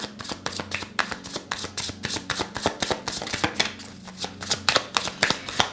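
Tarot cards being shuffled close up, a rapid run of crisp riffling flicks and soft slaps in an irregular rhythm with steady low music underneath; no one speaks.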